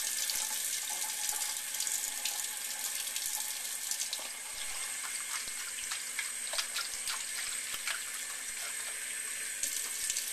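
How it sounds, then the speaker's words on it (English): Cold tap water runs steadily over calamari rinsing in a sink, a continuous close hiss and splash with small shifts in flow and no talk. "you run cold water on it, and you keep pouring the water off until the water runs clear"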